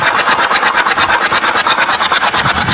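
A tractor's diesel engine, damaged in an accident and leaking oil from its three injectors, is turned over by its starter motor in a loud, steady, rapid rhythmic cranking that continues throughout without firing.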